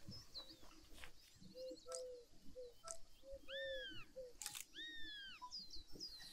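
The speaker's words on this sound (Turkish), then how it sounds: "Bayağı atmacası." A Eurasian sparrowhawk calls in the wildlife game Alba, with repeated thin, downward-slurred cries and short chirps over a soft outdoor ambience of other birds, fairly faint and at a distance.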